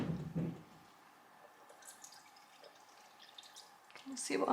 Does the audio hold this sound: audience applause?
no